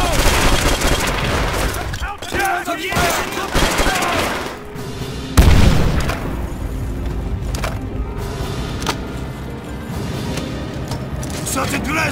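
Call of Duty: World at War battle as a Panzerschreck rocket is fired at a tank, heard amid dense gunfire and machine-gun bursts, with a heavy boom near the middle, shouted voices across the scene.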